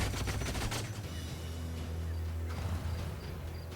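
A unit shooting in the video game Age of Wonders: Planetfall lets loose a loud, continuous volley of rapid gunshots layered over a low rumble, with no voices.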